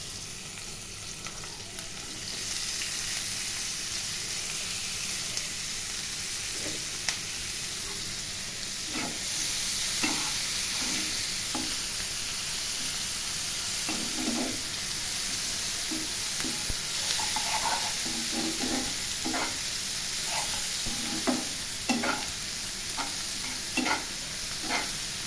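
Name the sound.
onions frying in oil for prawn curry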